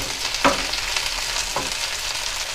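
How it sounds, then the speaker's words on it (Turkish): Green peppers fry in a covered pan with a steady, close sizzle, a couple of brief clattering stirs or knocks breaking through the hiss, no one speaking. "Arada biberlerimizi karıştırmayı unutmayalım. Çünkü biliyorsunuz biberler çok çabuk kızarır."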